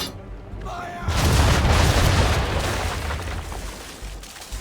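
Ship cannons in Assassin's Creed III fire in a heavy booming broadside, a loud deep blast swelling at about one second and rolling away over several seconds, with lighter thuds trailing and voices over the combat.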